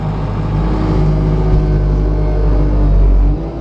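A Bobcat Toolcat utility vehicle drives through light snow, its engine a steady, close, continuous drone with a deep rumble throughout, easing slightly near the end.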